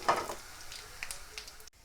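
Curry leaves, cumin and whole chillies crackle and sizzle in hot oil for a tempering, a steady fizzing hiss with a louder burst at the start, close and fairly soft.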